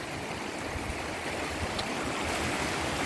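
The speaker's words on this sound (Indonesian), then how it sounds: "Inilah Sungai Cinangka." The Cinangka River flows past rice paddies with a steady, broadband rush of water, quiet and continuous throughout, with no voices.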